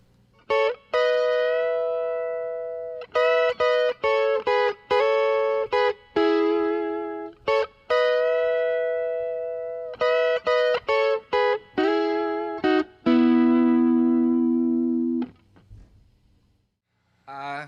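Distorted electric guitar playing slow, sustained bent notes doubled by a pitch-shifted harmony voice from a DigiTech HarmonyMan pedal, phrases separated by short gaps, loud and close.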